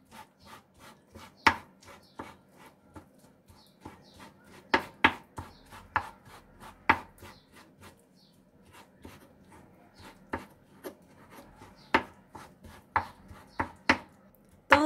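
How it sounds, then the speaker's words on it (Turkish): A kitchen knife chops peeled eggplant into small pieces on a board, with steady close knocks that speed up and slow in uneven bursts, sometimes in quick pairs, and run on without pause and without talk. "Patlıcanlarımızı bu şekilde küçük küçük doğruyoruz."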